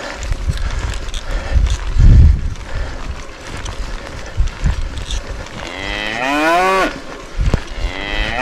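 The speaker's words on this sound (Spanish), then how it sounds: "Impresionantes, las vaquitas." Cattle lowing in the countryside during a Sierra Norte mountain-bike marathon, several long drawn-out moos rising and falling near the end over a constant rush of wind and rider noise.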